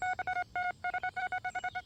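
A metal detector sounds its signal tone over a buried target: a quick series of bright, evenly pitched beeps in short bursts with brief gaps, close and clear with no speech.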